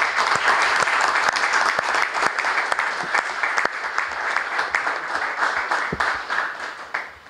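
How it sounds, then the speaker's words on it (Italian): Steady applause from a crowd at a club's season presentation for the Falcons Torre Pedrera sports team, loud and close, with dense clapping that fades slightly toward the end. "fagli un applauso"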